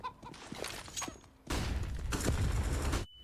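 A grenade detonates in a professional Counter-Strike match between NAVI and Astralis, a loud sudden blast with a sustained rumbling roar that cuts off abruptly, following a stretch of busy game noise.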